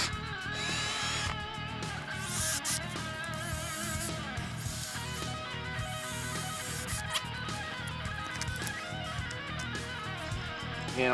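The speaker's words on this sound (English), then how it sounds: "I'm going to go ahead and drill a couple of pilot holes in here" A power drill bores pilot holes into wooden mailbox boards in a series of whirring bursts that start and stop, close and fairly loud, with no talk over them.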